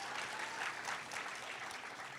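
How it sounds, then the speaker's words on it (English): Audience at a film Q&A applauding, a dense steady patter of many hands clapping at moderate volume throughout. "Claps."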